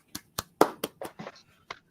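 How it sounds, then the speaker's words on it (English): A few hands clap in sparse, uneven bursts, about nine sharp claps spread unevenly, fairly close and quiet, as a small group applauds after a performance. "Round of applause"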